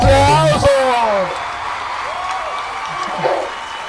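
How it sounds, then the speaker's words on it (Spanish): A shout opens the moment, then an audience at a street talent show breaks into scattered applause and crowd noise that carries on at moderate loudness. "¡Los aplausos!"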